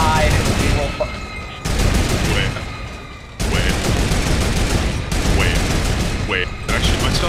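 Rapid gunfire in the video game Fortnite: loud, sustained automatic bursts repeating in several volleys with brief pauses, while voices talk excitedly over the shooting.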